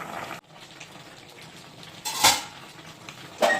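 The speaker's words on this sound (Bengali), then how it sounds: "এর মধ্যে ঢাকনা দিয়ে দিচ্ছি, পুরো সবজিটা ফুটে যাবে।" Metal lid set down on a pot of cauliflower and potato curry, with sharp clanks at the start and two more bright metallic knocks later, close by over a faint simmer.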